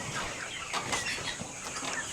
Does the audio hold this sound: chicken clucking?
yes